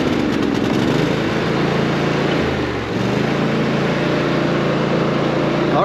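A tractor with a brush mower set at 4 inches runs steadily in a field, its engine a loud, continuous drone with a brief dip in the middle.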